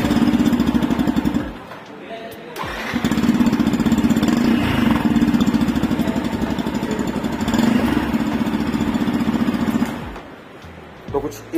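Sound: Yamaha FZ X 2022 motorcycle engine idling, exhaust note

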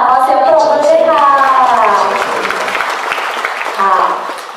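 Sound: audience applause

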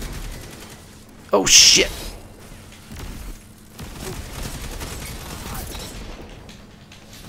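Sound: gunfire in Destiny 2 video game multiplayer match

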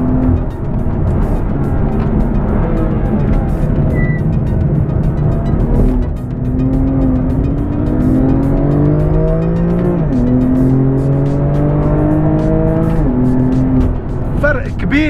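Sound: BMW M2 Competition car engine on track

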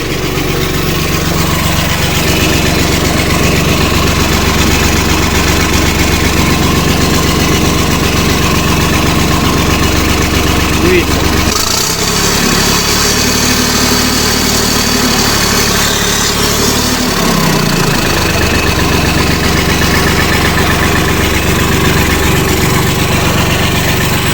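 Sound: engine idling, running homemade ejector for vacuum pumpkin seeder

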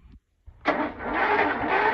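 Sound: cold start of an old car engine, no choke

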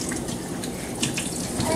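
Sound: water poured into a pot for cooking

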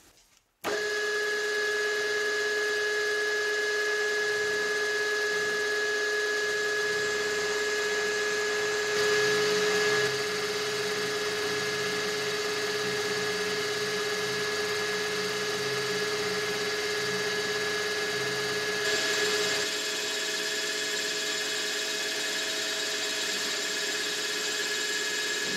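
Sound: milling with a 4-flute 4mm carbide end mill, dry, ~1000 RPM

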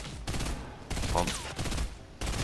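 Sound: gunfire in Fortnite, from a video game

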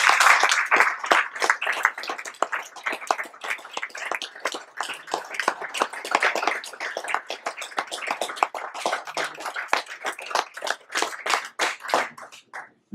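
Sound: audience applause at a conference

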